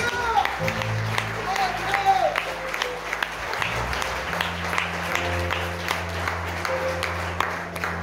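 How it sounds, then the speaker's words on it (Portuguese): A church congregation claps and applauds steadily under sustained organ or keyboard chords during a worship service, with a voice speaking over the crowd. "A igreja aplauda o Senhor nesta hora"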